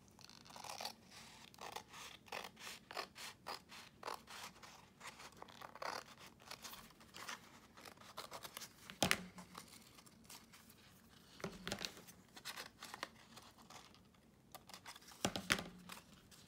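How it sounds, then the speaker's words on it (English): Scissors snipping paper for a junk journal envelope window flip, a quiet series of short crisp cuts and rustles in irregular bursts, with a few louder crunches near the middle and end. "Okay, I might have to cut this down a little."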